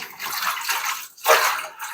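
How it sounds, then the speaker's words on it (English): Fresh garden green beans are tipped into cold water in a clean kitchen sink, giving a close, rushing splash and sloshing that fades briefly, then surges again. "I have some cold water and a clean sink here. Dump those beans in."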